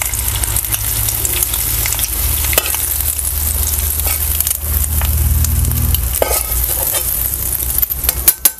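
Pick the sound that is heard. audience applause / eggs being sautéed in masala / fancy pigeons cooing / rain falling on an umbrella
eggs being sautéed in masala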